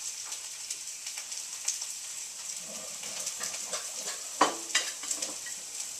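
Almond Parmesan crusted chicken frying in a pan, a steady close hiss and crackle of hot oil with small pops, and a brief louder clatter partway through.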